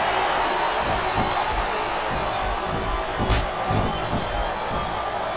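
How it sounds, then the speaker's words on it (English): The arena crowd in the wrestling video game WWE SmackDown vs Raw 2007 keeps up a steady roar of cheering, broad and constant at a moderate level. A brief sharp accent rises partway through. "Now the fans start to cheer for him."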